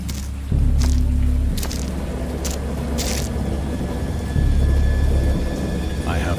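A thunderstorm in the video game Dagon, with low rumbling thunder swelling twice over a steady bed of rain and scattered sharp crackles.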